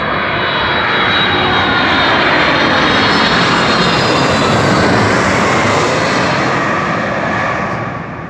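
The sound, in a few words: airplane passing low overhead near Memphis airport runway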